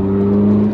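A 1989 BMW M3 holds a loud, close, steady engine note with a smooth whirring hum that barely changes over a brief moment.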